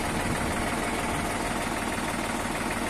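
A sprayer engine runs with a loud, steady, dense drone throughout while Bordeaux mixture is stirred for winter treatment of walnut trees.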